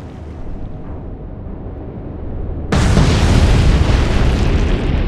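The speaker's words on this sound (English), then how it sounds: "Took two torpedoes to sink him." Torpedoes strike and sink a ship in the naval warfare game Atlantic Fleet: a low rumbling buildup gives way to a sudden, loud, sustained broadband explosion roar that fills the rest of the moment.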